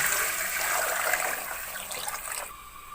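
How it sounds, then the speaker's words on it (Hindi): Water poured into a cooking pot for beef nihari, a steady hissing splash throughout that stops abruptly near the end, fairly close, with no talk. "अब इसमें मैं 8 गिलास पानी शामिल कर लूंगी।"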